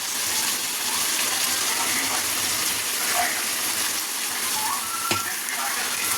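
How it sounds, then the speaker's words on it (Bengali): Steady, close sizzling of mutton and spices frying in a hot pan, a continuous crackling hiss with a brief sharp clink near the end. "ভাজা হয়ে গেছে, এবার মশলাটা দিয়ে দেবো।"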